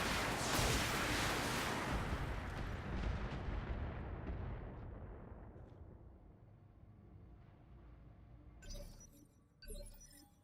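Mech weapons in the BattleTech video game fire in a heavy blast that rumbles and shatters, then decays over several seconds, followed by two short, sharp bursts near the end.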